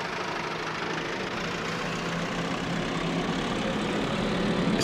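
A small tractor fitted with row crop tyres idles in the farming game Farming Simulator 22, a steady low rumbling engine drone with faint knocking, continuous and close, with no talk over it.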